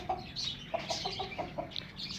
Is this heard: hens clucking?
yes